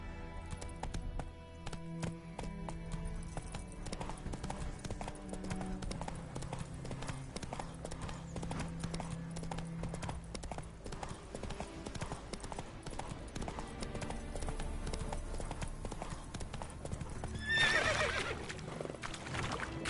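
Horse hooves clip-clopping in a PS4 video game: a steady, brisk rhythm of close hoof taps on a hard surface with game music underneath, and a short whinny near the end.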